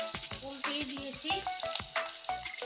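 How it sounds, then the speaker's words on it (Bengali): A rohu fish head fries in hot oil with a steady, close hiss and crackle. Intermittent scraping and stirring of a spatula in the pan runs through the sizzle. "এবার দেখুন মাছের মাথাটা আমি ভেজে নিচ্ছি।"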